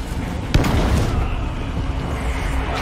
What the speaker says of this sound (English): Barrel's gonna boom.